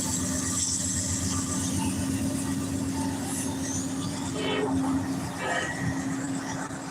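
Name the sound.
train rolling along the tracks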